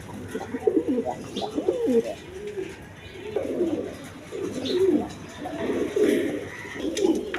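Pairs of domestic pigeons, shown for sale as breeding pairs, coo repeatedly in soft rolling phrases close by, one call after another with brief pauses between.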